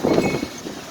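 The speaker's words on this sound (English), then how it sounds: "The wind just picked up so loud." Strong storm wind gusting outdoors, a loud continuous broadband roar with buffeting surges, close to the microphone, no voices.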